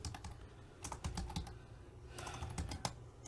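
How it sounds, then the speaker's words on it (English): Keys clatter on a computer keyboard in quick, uneven bursts with brief pauses, close and fairly quiet, with no voices. "I'm typing in the wrong place."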